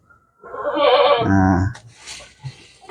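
Goats bleating at feeding time on chopped vegetable-waste feed, one loud wavering bleat at close range lasting about a second, followed by faint rustling and a brief thump.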